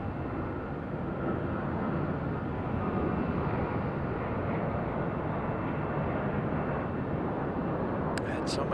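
A Star Alliance airliner at Raleigh-Durham International Airport produces a steady, broad jet roar that holds evenly throughout, ending in a couple of brief clicks.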